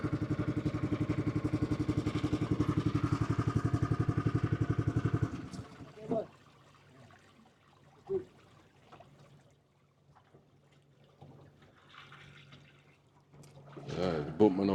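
Outboard engine of a small boat crossing the water to a Malaysian village, droning loudly and steadily up close for about five seconds before cutting off, followed by quiet water sounds and faint talk.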